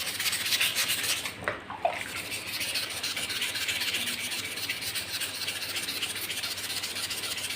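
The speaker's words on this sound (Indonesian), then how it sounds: "lalu biar lebih halus lagi kita amplas kedua menggunakan amplas ini" Steady, close scratchy rubbing of 600-grit sandpaper against a carbon bicycle fork, a continuous abrasive hiss with a brief pause early on.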